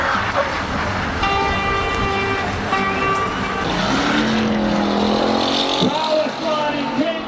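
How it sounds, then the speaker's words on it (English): A Mercedes-Benz truck at the GAS Motorshow 2025 drifting event, its engine droning loud and steady with shifting tonal whine, mixed with crowd and commentary noise and a voice talking over it. "Mercedes-Benz truck."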